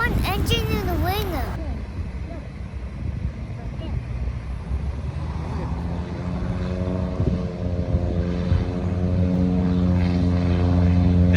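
A propeller airplane takes off at an airfield in Renton, Washington, its engine drone rising into a steady, growing roar as it passes at a moderate distance, with people talking over it.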